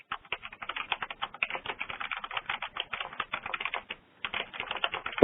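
Rapid typing on a computer keyboard during an online meeting, with dense, irregular key clicks close to the microphone for about four seconds, a brief pause, then more tapping.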